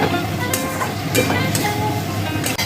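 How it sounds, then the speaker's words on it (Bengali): Potato and pointed gourd pieces fry in a pan for a fish curry, turned two or three times with a spatula, giving a loud, close sizzle with a few distinct scraping strokes. "আলু পটলগুলো 2-4 বার নেড়ে নিলাম।"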